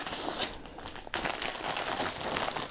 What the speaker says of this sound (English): Let's unwrap this then